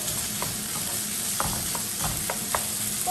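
Ingredients being stir-fried in a pan for a tortilla dish: a steady sizzle holds throughout, broken by several sharp scraping and tapping strokes of the spatula against the pan, close and alone with no talk.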